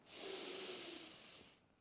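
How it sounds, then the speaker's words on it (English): A person draws in one long, deep breath, a steady airy hiss lasting well over a second, close and fairly soft, fading out at the end with no talking. "So take a breath in on that."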